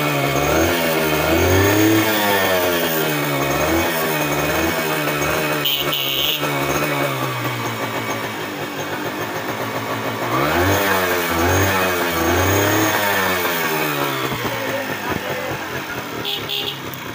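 A Japanese Honda CDI H100 motorcycle in fresh condition runs loud and close, its engine repeatedly revving up and dropping back over a steady idle, with people talking nearby.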